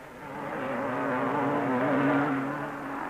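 BSA and Husqvarna 500cc motocross motorcycles from a 1969 world championship race climb a hill after crossing a bridge, engines droning and rising in pitch as they pass, loud and sustained.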